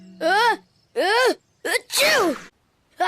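A cartoon puppy character sneezes four times in quick succession, each a voiced, strained 'achoo' burst with rising-falling pitch and short pauses between, loud and close.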